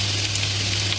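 Rice vermicelli (bihun goreng) sizzles steadily as it is stir-fried in a pan, a dense, even hiss with a constant low hum beneath it and no pauses.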